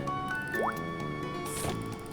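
Watering crops in Harvest Moon: Island of Happiness gives a quick squishy splash with a rising drip-like tone, set over soft looping game music.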